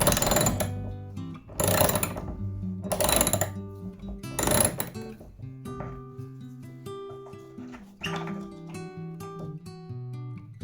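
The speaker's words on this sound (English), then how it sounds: "I'm using a slimmer wrench here" Fast ratcheting clicks of a slim wrench loosening a hood bolt on a C3 Corvette, coming in several loud bursts, then a quieter stretch of mechanical creaks and light metallic taps.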